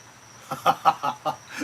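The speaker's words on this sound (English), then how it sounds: "Oh, did you hear the crickets?" Crickets chirp in a short burst of about five quick, evenly spaced chirps, moderately loud against a quiet background during a St. Patrick's Day cocktail-hour show.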